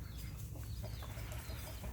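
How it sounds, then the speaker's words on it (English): Chickens and roosters call faintly at about 6:30 in the morning in a Florida garden, giving low, muffled clucks under a steady outdoor hum. "You hear all kinds of birds chirping, roosters crowing"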